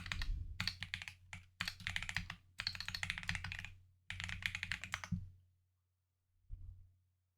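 Fast typing on a computer keyboard comes in several bursts of close, crisp key clicks separated by short pauses, then a single soft tap after a silence.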